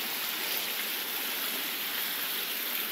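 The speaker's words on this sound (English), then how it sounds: "here's a nice little creek this morning I'm going over." Small creek flowing along a hiking trail in the morning, a steady broadband rush of water, continuous and close, with no voices or other sounds over it.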